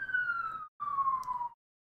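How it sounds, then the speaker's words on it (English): A steady electronic siren tone in the mech combat video game Roguetech, holding a high whine in two sustained bursts separated by a short gap, then falling silent; no talk over it. "Don't mind the siren."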